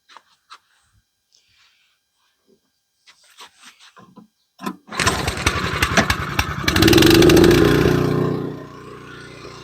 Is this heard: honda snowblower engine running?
yes